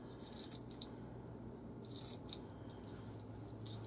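Crisp scissor snips cut through paper in a few quick bursts, close by, over a steady low background hum.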